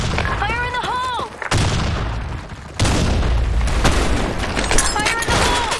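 Grenade blasts from the video game Blackshot, several booming, broadband explosions in a row with a loud onset near three seconds, under shouted voice lines and battle noise.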